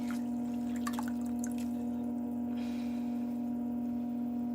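Water drips from a pottery sponge on a stick, scattered close drips landing over the first few seconds above a steady mechanical hum, then fading to just the hum.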